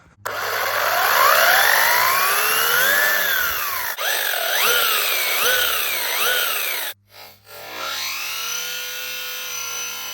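Traxxas Slash 4x4 RC car in second gear, a loud whining electric motor rising and falling in pitch with repeated throttle surges, then cutting off briefly before a softer whine returns.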